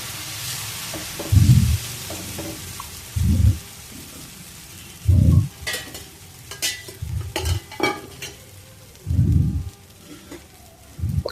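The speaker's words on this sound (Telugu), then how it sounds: "నా అగైన్ మళ్ళీ దోశ వేస్తున్నాను చూడండి." Brown rice dosa batter cooks on a hot pan with a soft sizzle, broken by several louder thumps and scrapes of spreading and turning, plus scattered crackles of oil.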